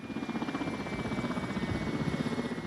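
A Soviet-era military helicopter in flight gives off a steady, rapid rotor chop over a constant engine whine, close and fairly loud, with no voices.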